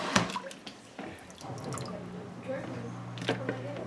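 Bone broth strained by hand in a kitchen, the big pieces lifted out while liquid drips and splashes; wet drips and small splashes come in scattered bursts, close and moderately loud, mixed with handling noise and a steady low hum.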